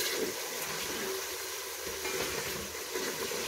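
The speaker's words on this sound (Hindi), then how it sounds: "उस चिकन को अच्छी तरह से हम फ्राई कर लेंगे" Chicken fries in a pan with spices, giving off a steady, fairly faint sizzling hiss with no voices over it.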